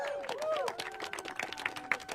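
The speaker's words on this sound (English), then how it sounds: "Clap it up, clap it up." Scattered clapping from a crowd at an outdoor rally on Capitol Hill, with voices and cheering mixed in over about two seconds.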